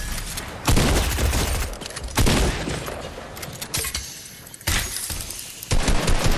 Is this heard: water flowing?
no